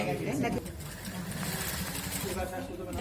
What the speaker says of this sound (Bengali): দেখেন চারপাশ সেলাই করা হচ্ছে